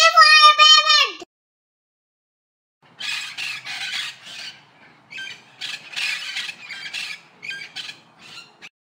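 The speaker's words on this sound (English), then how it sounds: "P for parrot." A cartoon-like parrot squawk sounds in a children's phonics alphabet song: one loud, shrill, pitched call lasting about a second. After a silence, busy squeaky bird-like chatter and noises follow.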